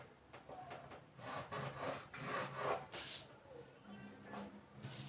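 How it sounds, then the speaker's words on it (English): A pen or pencil scrapes across paper while a straight line is drawn on a sewing pattern draft for a halter backless blazer, a series of close, soft strokes with faint background noise. "I'm going to extend and draw out a straight line."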